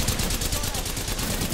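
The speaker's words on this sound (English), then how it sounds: "This guy shot me through the wall." Rapid gunfire in an Apex Legends firefight, with a dense, continuous burst of shots through a wall at close range, loud and steady throughout with a faint voice mixed in.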